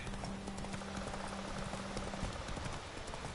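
Horse hooves clip-clop in a steady galloping rhythm in The Witcher video game, faint and continuous under a low game backdrop.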